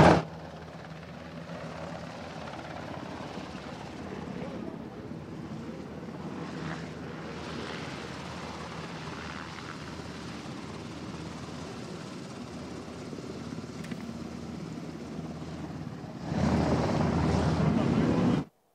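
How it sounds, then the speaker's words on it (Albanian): Black Hawk helicopters take off at Kuçova air base, NATO, with a continuous rumbling engine and rotor drone at moderate distance that swells sharply louder near the end. "Është ky momenti ku helikopterët ngrihen në bazën ajrore të Kuçovës për të ulur"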